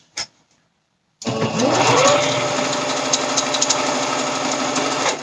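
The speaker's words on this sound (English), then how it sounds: "And I just do a straight stitch." A sewing machine runs a straight stitch through elastic, starting abruptly after a brief click and whirring steadily and closely for several seconds.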